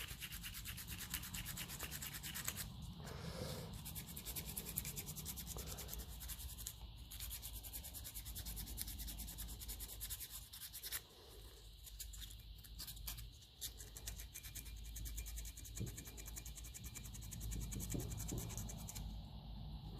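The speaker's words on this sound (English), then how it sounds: "Get a nice bit of sandpaper there if I can." Sandpaper scratches across the metal of a 1955 Lucas starter from a Ferguson 20 diesel tractor, a faint, close, rough scraping in repeated short strokes with small pauses.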